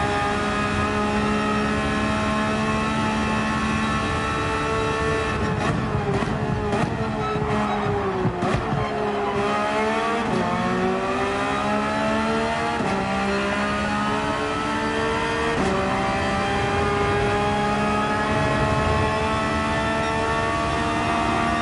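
Race car engine in Gran Turismo 7 revving through gears at high pitch, with downshifts and brief tire squeal, sustained and loud throughout with no talk.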